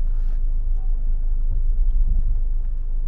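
Low, steady engine rumble and road noise inside a SsangYong Tivoli 1.6 turbo as it drives, with a subtle shift in tone as the transmission changes gear smoothly.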